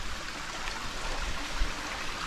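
Creek water flows steadily at the top of Green Falls in Australian rainforest near Brisbane, a continuous close rushing babble with no talk over it.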